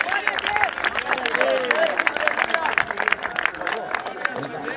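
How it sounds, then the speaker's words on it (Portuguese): A congregation at a church baptism service claps steadily and cheerfully, lively applause with voices and crowd noise mixed in throughout. "Pode bater uma salva de palmas bem alegre para Jesus."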